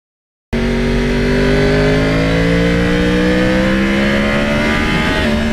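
A 2009 Yamaha R1 crossplane motorcycle is ridden, its engine loud and close, starting abruptly and holding a strong revving drone whose pitch gradually climbs as it accelerates.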